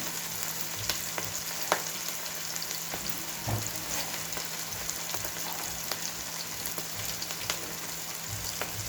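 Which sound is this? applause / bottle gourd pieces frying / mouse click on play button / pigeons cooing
bottle gourd pieces frying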